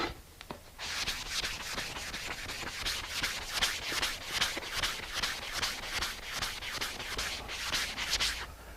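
A raised wood panel is sanded by hand with 320-grit sandpaper, making a steady rhythm of soft, raspy back-and-forth strokes close by with no talking.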